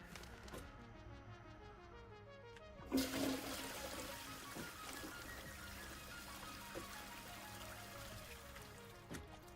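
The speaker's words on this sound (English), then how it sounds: "Oh yeah, you can flush stuff down the toilet," A toilet flushes in a video game, a loud rushing swirl of water starting suddenly near the three-second mark and draining steadily over several seconds, set over a quiet game soundtrack with no talking.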